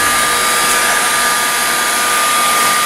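A hot air gun runs steadily, with a loud, constant whirring hiss close by, used to heat a moped wheel bearing in a workshop.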